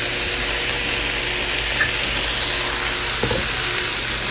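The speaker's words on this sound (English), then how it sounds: "Stir it all in." Chicken, mushroom, onion and broccoli stir-fry in soy and teriyaki sauce with a dense, steady sizzle throughout and a faint scrape or two of a stirring utensil.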